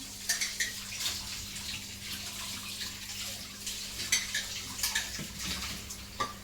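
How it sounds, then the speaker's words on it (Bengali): Dishes from dinner are washed under running water at night in a home kitchen, with a steady tap hiss, a low hum beneath it, and intermittent clinks of plates and utensils. "রাত্রে খাওয়ার এগুলো সব ধুয়ে রাখতেছে"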